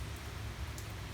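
Soft, steady rain falls on a quiet morning, a continuous faint hiss with low rumble and no voices.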